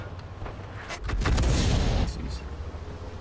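A tank cannon firing in World of Tanks, a heavy booming blast around the middle of the clip that swells and lingers over a rumbling low battlefield background, with earlier softer thumps.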